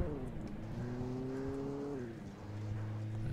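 A car driving in the video game Alan Wake, its engine humming at moderate volume with a smooth rise in revs, a brief dip, then a steady lower drone.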